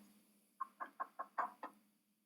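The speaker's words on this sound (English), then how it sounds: "I'll knock on the bathroom door." Six quick knocks land on a bathroom door in an even, rapid rhythm, fairly close and crisp against an otherwise quiet room.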